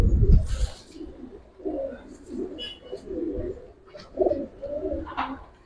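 Indian Lal Dom high flyer pigeons coo in soft, repeated throaty bursts at close range, with a thump and brief rustle at the start and faint chirps between the coos.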